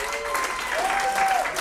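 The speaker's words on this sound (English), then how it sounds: "Let's give Al a round of applause." Audience applause at a parlour magic show, steady clapping from a small crowd greeting a volunteer named Al, with a faint voice or whistle-like tone weaving through it.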